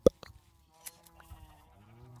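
Sheep in the Minecraft video game give a couple of short, faint bleats among small in-game clicks and footsteps, with no talk over them.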